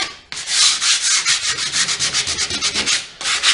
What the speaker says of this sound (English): I got some 100 sandpaper. We're just going to kind of make it look a little bit rustic.